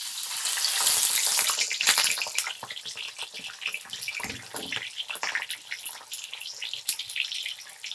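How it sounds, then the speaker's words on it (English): Wet, freshly boiled jackfruit sizzles hard in hot oil, a loud, dense crackling that is strongest at the start, then settles into a steadier, softer bubbling fry, with no talking. "we'll now start frying the jackfruit"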